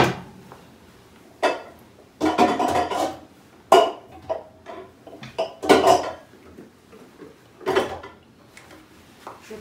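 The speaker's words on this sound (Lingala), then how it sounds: "Je prends la marmite, je vais la nettoyer." A cooking pot is handled among dishes in a home kitchen, giving a series of close metallic clanks, knocks and scrapes in irregular bursts, with no talking.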